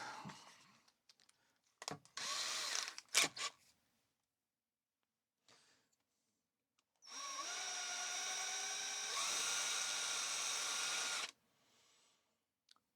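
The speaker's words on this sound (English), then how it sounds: "I think I should just use a drill." Small drill working on a ZX81 computer repair part, short bursts followed by a longer sustained whirring run, close and fairly quiet with pauses between.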